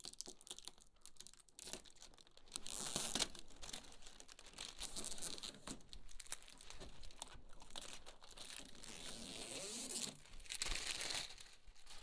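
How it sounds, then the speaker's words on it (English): Protective plastic film peeled off a 55-inch Onn Roku 4K TV screen crinkles and crackles steadily and close for several seconds, with brief tearing bursts and no talk. "so then we can take the plastic off the screen itself"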